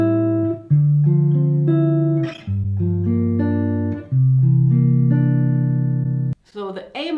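A sequence of four sustained jazz chords, the progression from bars 9 to 12 of a jazz standard, each held for about a second or more and played clearly with no talk over them, ending in a short noisy tail.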